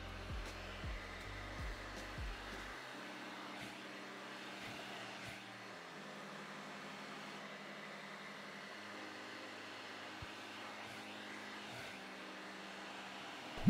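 A hair dryer blows hair dry in a steady, quiet whir that shifts pitch a few times as the speed setting or the angle changes, continuous from start to end with no talk.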